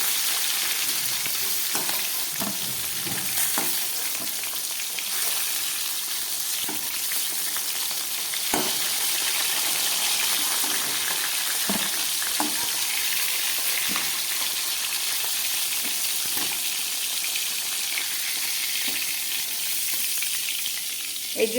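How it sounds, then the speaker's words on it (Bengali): Hilsa fish heads fry in hot oil with a continuous, even sizzle lasting over twenty seconds, dotted with occasional stirring knocks and crackles close by. "ইলিশ মাছের মাথাগুলো আমার পুরো ভাজা হয়ে গেল,"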